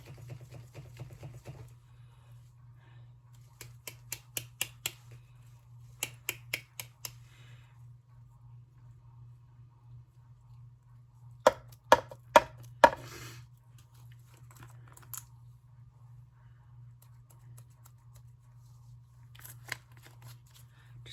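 A small jar of glitter for a butterfly jar craft project, shaken in a few short bursts of quick rattling taps separated by quiet stretches, close and faint over a low steady hum.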